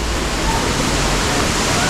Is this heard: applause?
no